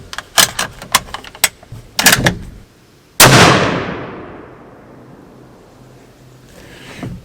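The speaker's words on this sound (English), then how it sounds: "3006 out of my custom Zastava M70 with a swan barrel and a magazine conversion" A single sharp, loud .30-06 rifle shot from a custom Zastava M70 with a swan barrel and magazine conversion, followed by a long echoing outdoor decay, after a run of clicks and handling sounds.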